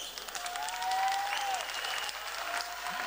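Applause from a basketball arena crowd during a Lithuanian league game between BC Jonava and Klaipeda Neptunas, a steady wash of distant clapping with a single long whistle-like tone rising above it.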